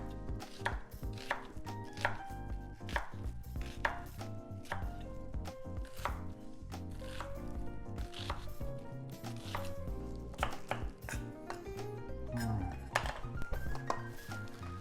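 Fast, steady knife chopping on a cutting board, crisp close thuds in a quick continuous rhythm, prepared for a creamy tomato bisque.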